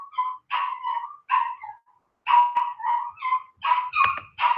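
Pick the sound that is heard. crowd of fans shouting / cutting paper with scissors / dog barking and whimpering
dog barking and whimpering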